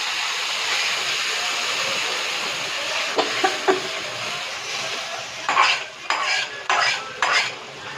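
A metal spoon stirs ground masala in a pan for dum aloo, scraping steadily, with a run of sharp clinks and knocks against the pan toward the end and no voices.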